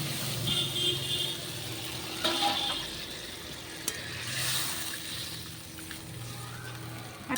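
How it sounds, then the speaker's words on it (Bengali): Potatoes and cumin sizzle in a frying pan as water goes in, a steady close hiss with a faint stirring scrape now and then. It is loud from start to finish and no one speaks over it. "আমি জল দিয়ে দিলাম"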